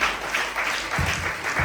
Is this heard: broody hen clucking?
no